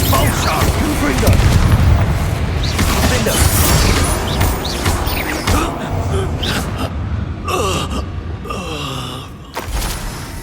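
Confringo blasting spells going off in Hogwarts Legacy, a run of booming, crashing impacts and magical effects layered over constant busy game noise, with a voice calling out between the blasts.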